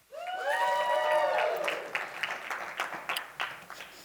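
A live sales-training audience breaks into applause: a rising electronic tone sweeps up over the first second, then scattered hand claps come in, moderately loud and close.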